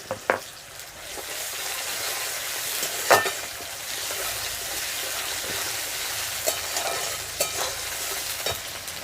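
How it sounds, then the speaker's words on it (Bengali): Tomato sautéing in a pan as the base for a Bengali Bhola fish curry, a steady close sizzle with occasional stirring scrapes and clinks against the pan, no voices. "টমেটোটা একটু কষাবো খুব বেশি কষাবো না"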